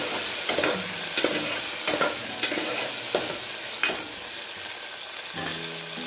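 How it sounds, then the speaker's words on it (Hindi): Tomatoes are stir-fried in a pan while cooking a green moong bean pulav, giving a steady loud sizzle with repeated scraping stirs throughout and no voices. "अब इसमें हमें डालना है टोमेटो। टोमेटो भी अच्छे से हमें भूनना है।"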